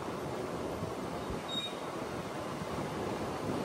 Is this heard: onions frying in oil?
no